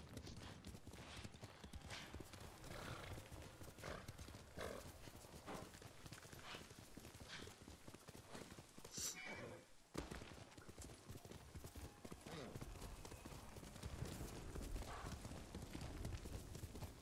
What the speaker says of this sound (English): Good horse, Kage. He is the best horse